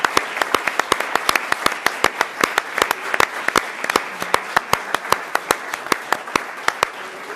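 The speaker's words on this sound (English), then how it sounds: "Let's give them a round of applause" Applause at a school board meeting, a steady run of distinct, fairly sparse hand claps from a small audience, close and clear, with little talk.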